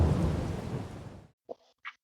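Heavy rain and rumbling thunder in the Farming Simulator 22 video game, a loud broadband roar lasting over a second, then cutting off abruptly, followed by two brief faint sounds.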